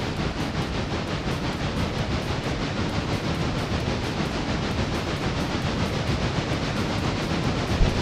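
Steam locomotive running in the railroad game Railroader, a steady loud rumbling chug that fills the whole stretch without pause and with no voices.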